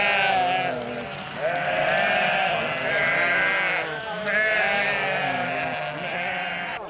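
A flock of ewes bleats continuously as the herd reaches the village fence in Hașdate, Romania, with many overlapping calls, some close and loud, others further back, running throughout without pause.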